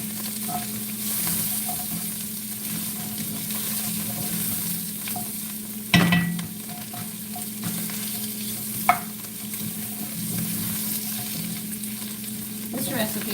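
Mushrooms, tomato paste and garlic fry in a pot for a goat, ale and mushroom pot pie, giving a steady close sizzle with a couple of sharp utensil knocks against the pot and no talking.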